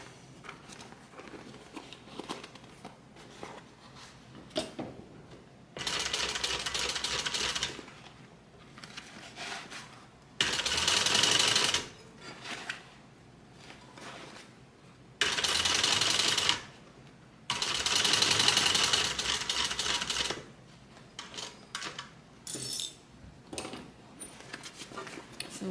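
A sewing machine stitches an AllyBee bag in several short bursts of rapid, loud mechanical whirring separated by pauses, with a person talking in between the runs.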